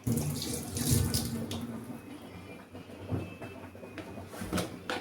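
Water runs steadily from a tap while cooking a potato milk curry, a close, continuous splashing flow with small clinks, no voices.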